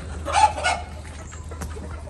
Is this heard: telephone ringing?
no